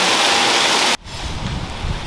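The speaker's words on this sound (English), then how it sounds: "And a few minutes later it's bucketing down again." Heavy rain pouring down outside a shed during wooden formwork construction, a loud dense wash of broadband hiss that cuts off abruptly, leaving a quieter, rumbling steady downpour.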